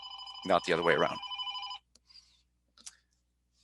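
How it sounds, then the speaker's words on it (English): A telephone rings with a steady electronic tone under a man's lecture-style speech, then cuts off, leaving only faint stray noises. "Sorry about the phone. It didn't ring all day today."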